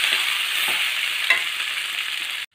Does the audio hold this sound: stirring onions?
yes